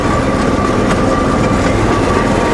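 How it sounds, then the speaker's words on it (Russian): A pioneer motor trolley on the narrow-gauge Alapaevsk railway runs on as a steady, loud, close rumble with constant mechanical drone and faint rail clatter, heard from on board throughout. "Я слышу только одну пионерку, свою."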